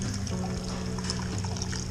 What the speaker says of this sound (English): We're going to start hitting it with some hot 172 degree sparge water, very slowly here.